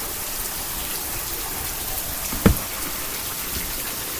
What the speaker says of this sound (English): It's storming so bad right now.